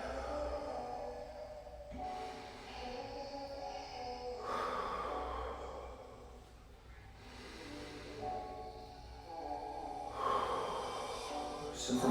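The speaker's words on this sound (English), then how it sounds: "Take a couple deep breaths right here." Slow, deep breathing while holding a child's pose stretch in a full-body mobility workout: several soft, close inhale-exhale swells spaced a few seconds apart, with no talking.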